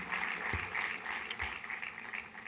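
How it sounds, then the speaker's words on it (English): Audience at a poverty report launch giving a round of applause, a continuous even wash of many hands clapping at moderate volume throughout, with a few sharper claps standing out. "Another round of applause for Joseph Enyimu."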